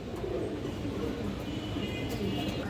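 High flyer pigeons coo softly amid a steady, busy background rumble, with low murmuring sounds running continuously underneath.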